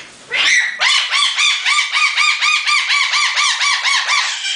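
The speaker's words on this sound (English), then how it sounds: "That's our cockatoo." A pet cockatoo squawks loudly and repeatedly, a rapid series of harsh, rising-falling screeches close by, continuing steadily for several seconds with no talking.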